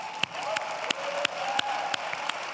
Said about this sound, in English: I would like us to give these panelists a round of applause.